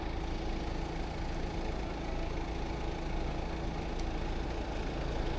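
A steady, low engine rumble idles continuously with no change in pitch, a constant mechanical drone throughout.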